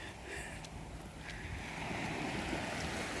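Sea waves wash faintly onto a beach in the early morning, a soft continuous surf hiss mixed with light wind noise on the microphone and no talking.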